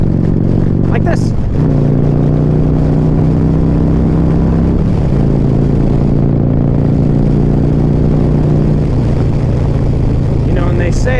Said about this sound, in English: I just like the way my bike sounds.